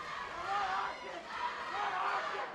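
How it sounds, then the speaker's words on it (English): Fight night crowd at SteelFist Fight Night 106 roaring steadily in support of Malachi Pool during his bout with Jamie Sanchez, a dense sustained cheer with voices blended throughout. "You can hear the crowd. The crowd backing Malachi."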